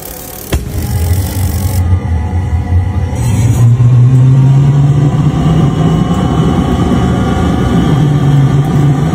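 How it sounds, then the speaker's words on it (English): A homemade jet engine built from scratch in Nigeria roars loudly and continuously. It opens with a sharp knock, then rises into a steady, heavy low rumble with a sustained whining tone. "This guy is building a jet engine."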